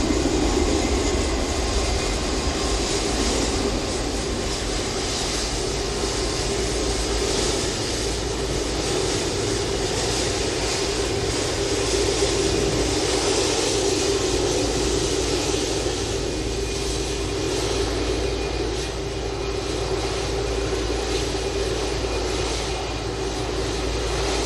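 Airliner departing on a flight to Almeria, a loud, steady, sustained jet engine roar with a constant tone, close and unbroken, with no talking over it.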